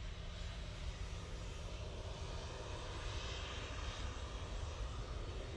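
A KLM Boeing 737 jet taxis or powers up at Manchester Airport, a steady broadband engine roar holding loud and even throughout with no talk over it.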